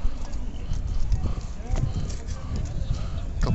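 Horses clop along near Cairo, with irregular hoof beats over a dense outdoor rumble, as someone talks over them throughout.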